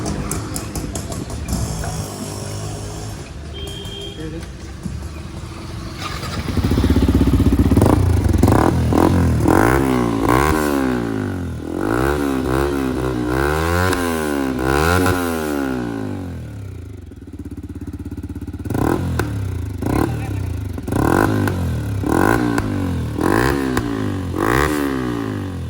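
A Yamaha R15 motorcycle with freshly reworked exhaust revs up close and loud, its engine note climbing and falling in repeated throttle blips, with some clattering mechanical noise at the start.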